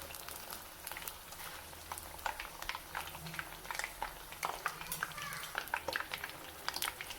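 Potato bhajji fries in hot oil, giving a faint, continuous crackling sizzle with scattered sharp pops, heard quietly and up close.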